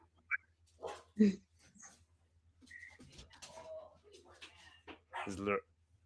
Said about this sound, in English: The dogs are just barking from that.